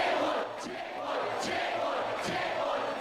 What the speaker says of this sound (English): Withdraw the bill, chanted the demonstrators